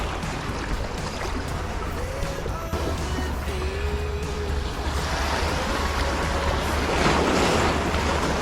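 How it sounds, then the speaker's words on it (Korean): Ocean waves wash and break continuously against the rocky shore at dawn, with a steady roar that swells louder toward the end, mixed with wind buffeting the microphone; no one speaks. "아 파도 소리 좋다 간만에 들으니까"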